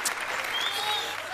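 Studio audience clapping during a Marathi comedy scene, a short burst of dense applause at moderate loudness with a thin whistle-like tone running through it.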